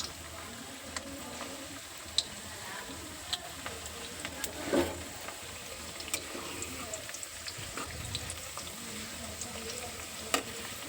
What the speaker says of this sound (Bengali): এইগুলো দেব এগুলো দিয়ে গোল্ডেন করে ভেজে নেব